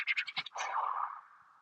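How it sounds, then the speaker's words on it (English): Charging attack effect from a LEGO Pokémon Smart Play toy: a quick burst of rapid choppy pulses followed by a longer whooshing, falling electronic swoop that fades out, close and brief with no talking. "this is the sound of him attacking"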